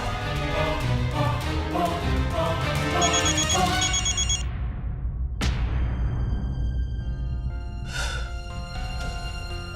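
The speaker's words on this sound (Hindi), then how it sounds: "आज से पहले कभी तारा बहू ने हमारा फोन नहीं काटा।" A phone rings with bright electronic tones over loud music, broken by a sudden crash, then a couple more faint rings.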